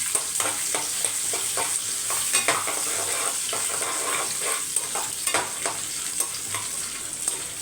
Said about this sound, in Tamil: சின்னதாக தேங்காய் பத்தை நல்லா இதை வதக்கி எடுக்க போகிறேன்